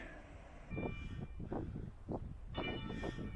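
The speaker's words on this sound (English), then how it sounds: "occasionally the fast trains go by over there pretty fast" A fast train in Italy rumbles past with rhythmic low thumps of wheels over rail joints, heavy and fairly close, a faint high whine above.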